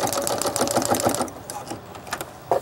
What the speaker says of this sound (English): So I guess I'll do a straight stitch.